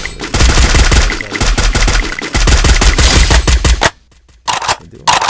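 Loud, rapid automatic gunfire from the Free Fire video game comes in long bursts, breaks off into a brief silence, then resumes with a short final volley.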